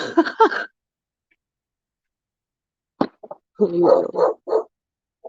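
A dog barks several times in a short quick burst, then a pause before another flurry of sharp barks, fairly close and loud, on bonfire night.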